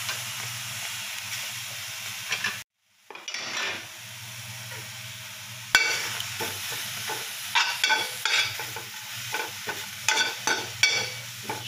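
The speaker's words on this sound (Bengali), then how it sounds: "শুটকিটা আমরা ভেজে নিব।" Dried fish (shutki) fries in white oil, a steady close sizzle broken by a brief silent gap, then a sharp clatter and a string of stirring scrapes and pops from the pan.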